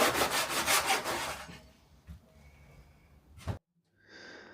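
Hand sawing of a wardrobe board cut to length, with rapid, rhythmic back-and-forth strokes up close for over a second, then scattered light knocks and a sharp clunk before a brief whistling tone.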